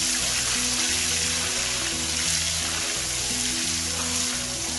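Steady, dense sizzling of ginger garlic paste frying in hot oil, a continuous crackle throughout with no voices.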